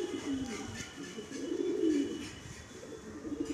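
Madrasi pigeons coo in soft, low, rolling phrases that swell and fade across the moment, close by, with faint background noise and no clear talk.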